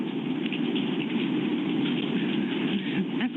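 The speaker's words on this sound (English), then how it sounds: "that's quite a rain, isn't it?" Heavy rain falls outside in a dense, steady wash of noise that holds evenly throughout, heard from indoors during a school board meeting.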